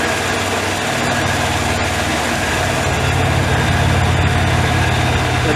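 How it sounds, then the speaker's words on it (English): A Shopsmith belt sander runs outdoors, tilted down, giving a loud, continuous mechanical drone with a steady low hum and constant buzzing throughout. "I've tilted the belt sander down"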